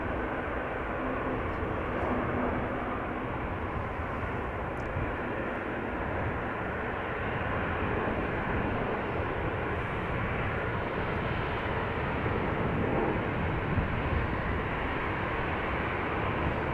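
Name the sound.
Pilatus PC-12 turboprop taking off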